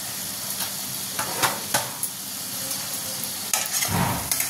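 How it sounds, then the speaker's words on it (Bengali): Ground spices (turmeric, cumin, coriander and Kashmiri chilli) with salt sauté in a pan, a steady sizzle punctuated by repeated scraping stirring strokes and a louder burst of scraping toward the end, with no speech. "মশলাগুলোকে ভালো করে কষিয়ে নিতে হবে"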